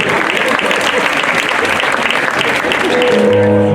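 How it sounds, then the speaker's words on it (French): Loud, sustained clapping from a large audience at a radio singing contest fills the space, then a musical tone begins to rise under the applause as it continues. "Applaudissez très fort, Marc, s'il vous plaît."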